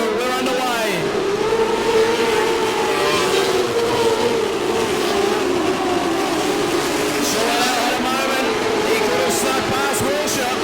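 Formula 500 speedway race cars at the start of a Laang Speedway series round, a loud, continuous engine roar with shifting pitch, mixed with crowd and track noise for the whole stretch.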